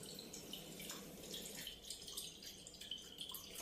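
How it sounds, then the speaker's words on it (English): Water pours from a glass into a bowl, a soft continuous splashing trickle that runs steadily and faintly throughout, with no talking. "So first we have to pour water inside the bowl."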